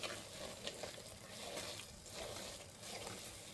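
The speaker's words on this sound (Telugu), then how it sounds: "మనం ఇలా ఫ్రై చేస్తూ ఉంటే గీ మొత్తం వస్తుందన్నమాట" Haleem frying in ghee while being stirred, a steady close sizzle with bursts of crackle and the scrape of stirring running throughout, no voices.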